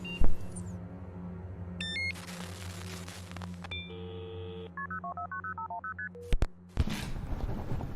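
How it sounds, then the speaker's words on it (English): Telephone keypad tones as a number is dialed: a run of about a dozen short, evenly spaced DTMF beeps with a few electronic chirps and tones before it, heard alone over a low background hum. "I need to call Sam."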